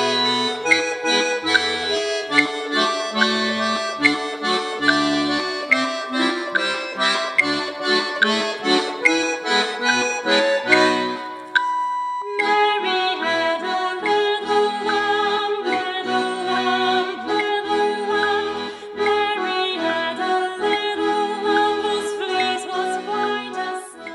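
A full accordion ensemble arrangement plays back with every part active, dense layered reeds carrying chords and melody for over twenty seconds, with a brief drop near the middle, loud and continuous, with no voices.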